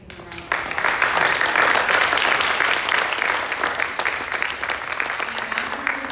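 Sustained audience applause for a high school speech and debate club at a community showcase, a dense wash of clapping that swells after a brief quiet start and holds steady throughout.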